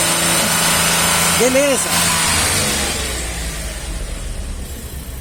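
A 2019 VW Up TSI engine runs near the microphone while the clutch pedal is pressed and released, a brief rising whine and rattle over the engine hum that then settles to a quieter idle, with someone speaking briefly.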